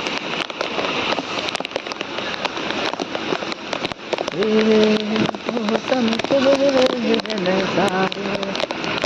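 A heavy downpour in a village market patters and hisses steadily on surfaces, with sharp crackling drops, while people talk nearby through the middle and end.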